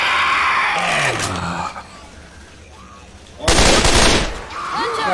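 Automatic rifle gunfire from a video game rips out in a loud, dense burst after a quieter stretch of in-game voices and groans, with more shouting layered over the shooting.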